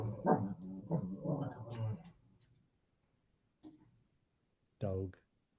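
A dog barks and whimpers during a podcast recording: a run of whining, yelping cries, a short pause, then a brief yip and a final loud whine, close to the microphone with no other sound behind them.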